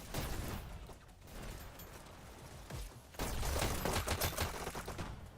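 Rapid SMG gunfire in a competitive team video game match, dense rattling bursts of shots layered with other combat noise, moderately loud and continuous with a heavier barrage near the end.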